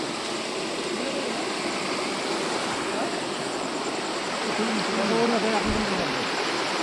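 A Konkan river flows at night during the rainy season, its steady rushing wash continuous and fairly close, with a voice faintly heard over it.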